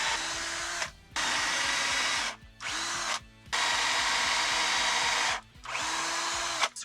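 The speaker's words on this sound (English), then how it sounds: "Then it was time to drill." Power drill boring into timber gate posts, in four long high-pitched bursts with short pauses between them, close and loud with no talk.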